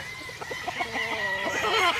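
A rooster clucks and calls in short repeated bursts, fairly close, with a steady farmyard hum underneath and no talking.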